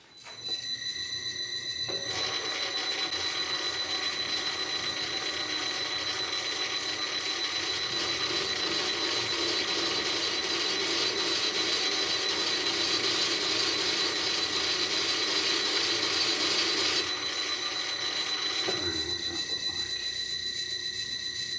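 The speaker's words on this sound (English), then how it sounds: "I've got it in the tool post now to allow me to do the chamfer on the inside." Lathe tool in the tool post cutting a 45-degree chamfer on the inside of a steel 5-inch gauge steam locomotive tender wheel, a loud sustained high metallic whine and ringing that runs steadily for most of the clip, then stops.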